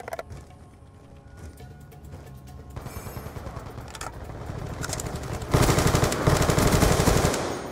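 Rapid automatic gunfire from Call of Duty Black Ops II crackles in dense bursts, growing louder and heavier partway through, with game sounds layered beneath.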